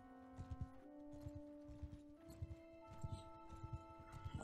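Horse hooves gallop in the video game Mount & Blade II: Bannerlord, a steady rhythmic clatter of hoofbeats under sustained in-game music, with a faint whinny hinted at the end.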